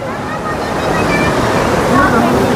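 Fast, swift river water rushing over and wearing down stones near Mana village in the mountains, a steady loud roar with no breaks, heard up close throughout.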